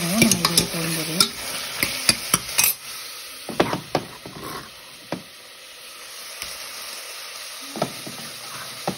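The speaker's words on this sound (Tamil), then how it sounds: "இந்த காயெல்லாம் எல்லாம் ஒன்றா போட்டு மிக்ஸ் பண்ணிக்கலாம்" A spoon stirs and scrapes chopped vegetables together in a cooking pot for a vegetable kuzhambu, with a quick run of clattering strokes at first, then sparser knocks against the metal and a faint sizzle between them.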